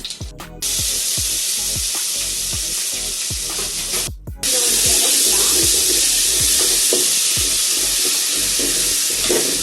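Curry leaves and ginger garlic paste hitting hot oil in a frying pan for village-style chicken curry, a loud continuous hiss and sizzle with a sudden surge as the paste goes in, punctuated by repeated spoon taps.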